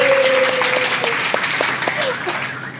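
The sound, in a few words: applause for the guest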